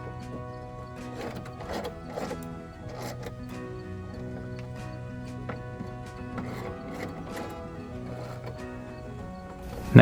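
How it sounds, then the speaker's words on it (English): A 3/8-inch ratchet snugging down tailgate hinge bolts on a 2021 Ford Bronco, a run of quick close clicking pawl strokes in short bursts over a steady background hum, ending in a louder knock. "snugged everything down with my 3/8 ratchet"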